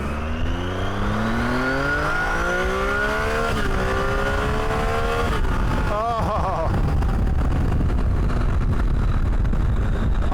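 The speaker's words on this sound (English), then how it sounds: "Let's just take a second and listen to this triple." Triumph Tiger 800xc triple-cylinder motorcycle engine pulling through rising revs with gear changes, then settling into a rough, throbbing rumble mixed with heavy wind buffeting, loud and continuous.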